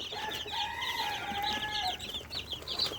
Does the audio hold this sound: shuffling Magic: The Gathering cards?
no